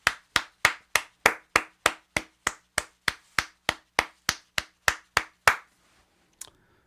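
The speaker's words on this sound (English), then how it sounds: "So round of applause." A single person claps slowly, about seventeen sharp, evenly spaced hand claps close by in a quiet room, followed by a pause and one faint knock at the end.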